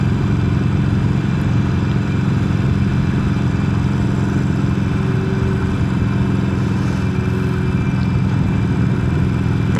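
A motorcycle on the ride home from a store drones loudly and steadily at a close distance, its low engine note and road rumble continuous, with no clear talking over it.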